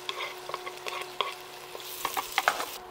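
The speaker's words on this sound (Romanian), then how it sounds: "Tragem ceapa până la rumenire." Onion fries in a pan until browned, a steady close sizzle broken by scattered clicks and scrapes of stirring, with no voices.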